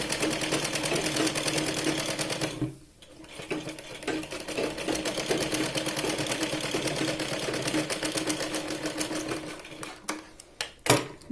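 A sewing machine runs steadily at close range while stitching a sleeve onto a Punjabi dress, its rapid even rattle broken by a short pause near the start and stopping in sputters at the end.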